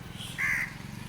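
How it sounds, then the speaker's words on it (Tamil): A single close, clear caw from a jungle crow rings out briefly, standing alone over faint low background rumble. "வந்துட்டார் பார்த்தீங்களா அண்டங்காக்கா நண்பர்"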